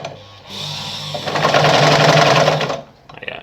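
A Pioneer semi-industrial heavy-duty sewing machine runs a long straight stitch through stretchy fabric, a loud, close, steady mechanical whir that builds for about two seconds and then stops.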